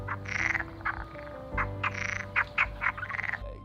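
A frog calls in a series of repeated croaking bursts over a steady low hum, fairly close and moderately loud, with no talking.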